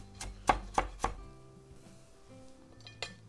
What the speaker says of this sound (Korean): 쪽파는요 밑에 부분은 좀 잘게 썰어 주겠습니다.